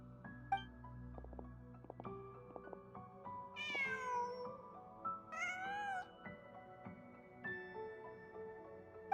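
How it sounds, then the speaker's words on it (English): A cat in the Genshin Impact video game meows several times, short rising cries heard clearly over a soft background music bed with chimes. "Just a cat."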